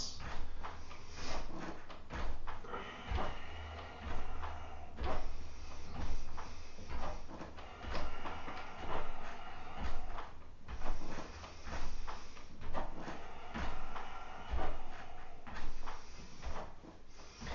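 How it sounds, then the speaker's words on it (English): Squeaky wooden floorboards creak repeatedly under someone jogging gently on the spot during a yoga and fitness session, giving a steady run of close creaks and thumps with no talk. "Excuse my squeaky floorboards."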